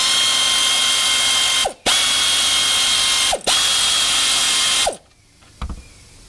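A powered ratchet wrench spinning the nut off a shock bolt on an RZR 900S, a loud continuous close whir broken by two short pauses, then stopping, followed by a few faint clunks.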